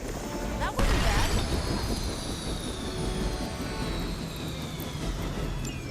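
A helicopter being brought down in the video game Marvel's Midnight Suns: a sharp crashing impact early on, followed by a steady engine drone and whine that continues throughout, loud and close.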